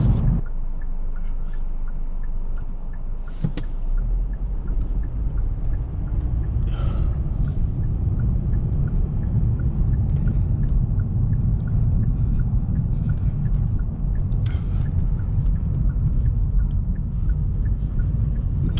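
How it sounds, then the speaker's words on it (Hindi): A car drives and turns on a snowy road in Canada, giving a steady low engine and tire rumble heard from inside throughout, with a few faint clicks and knocks and no talk. "बाप रे, कहाँ कहाँ मुड़ रही गाड़ी।"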